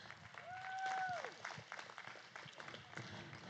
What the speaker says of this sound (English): Can we give this class of exhibitors a round of applause